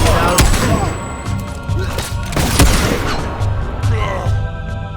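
Dense bursts of gunfire crackle over a loud, chaotic scene, with sharp shots and booms crowding the full five seconds while people shout beneath them.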